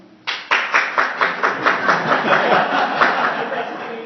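Applause from a live conversation event audience, opening with several distinct sharp claps that quickly build into steady, fairly close clapping with light chuckling mixed in.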